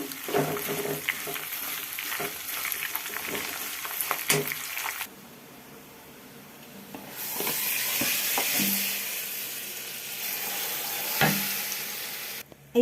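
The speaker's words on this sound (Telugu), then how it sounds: "ఎండుమిరపకాయ కూడా వేసుకుందాం ఇవి కూడా వేయించుకుందాం బాగా" Dried red chillies fry in hot oil for an Andhra-style tomato pickle, a steady close sizzle with stirring clinks that cuts out briefly midway, then returns as a louder hissing crackle.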